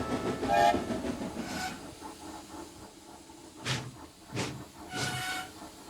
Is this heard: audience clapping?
no